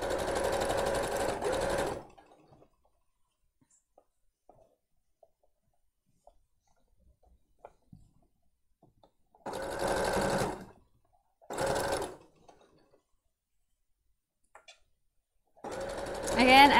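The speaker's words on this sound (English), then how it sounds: "when it comes to use a regular sewing machine for stretchy fabric" A sewing machine stitching knit fabric runs in several short bursts of rapid whirring stitches, separated by quiet pauses with faint clicks.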